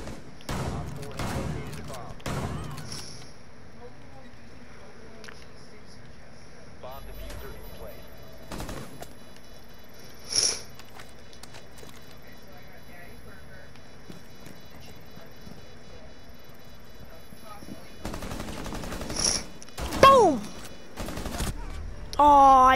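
Jaeger's shotgun in the Rainbow 6 video game fires in sharp, scattered blasts amid game noise, with a few louder shots clustered near the end and faint speech-like chatter in the background.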